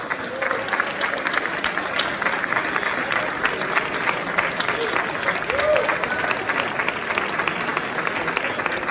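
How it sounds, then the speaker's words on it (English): Sustained applause from a crowd at a startup award ceremony, dense steady clapping throughout with a faint cheer or whoop partway through. "give a big round of applause for Team Kharda"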